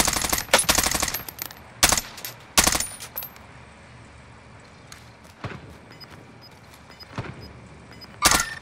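Gunfire in the first-person shooter Call of Duty: Modern Warfare comes in loud, sharp bursts and single shots scattered across the stretch, separated by quieter gaps of faint background game noise, with no voices.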